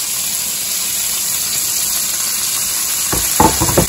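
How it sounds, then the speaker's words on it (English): Onions and garlic tipped into a hot pan with crispy pancetta start a strong, close hiss of frying that swells near the end with a burst of crackling sizzle, and no one speaks. "we're going to put our onions and garlic in here now"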